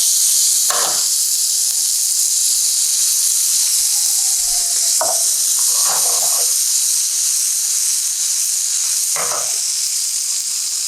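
Water poured into a pan of frying napolitan pasta sets off a steady loud sizzle and hiss of steam, with a few brief scraping stirs over the constant frying noise.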